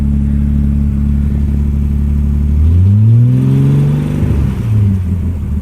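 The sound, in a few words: 1970 Mercedes-Benz 250 engine running after starting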